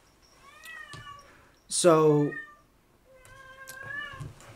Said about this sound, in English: So we got a cat and she's very vocal